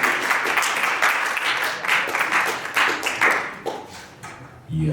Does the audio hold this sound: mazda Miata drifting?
no